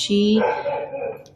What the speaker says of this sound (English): Oh, there's the barking.